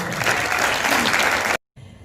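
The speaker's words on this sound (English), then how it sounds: "Everyone join me in a massive round of applause for my kids" Dense audience applause at a Year 12 school graduation ceremony, loud and steady for about a second and a half before cutting off abruptly.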